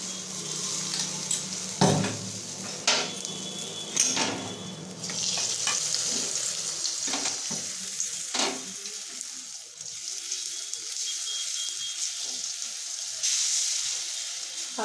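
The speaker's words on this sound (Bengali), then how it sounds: "এবার মা ব্যাটারটা কড়াইয়ে দিয়ে একটা করে দেখাচ্ছে" Egg and milk batter sizzles in a wok with a continuous hiss, broken by sharp scraping and tapping strokes of a spatula at irregular intervals. No voices are heard.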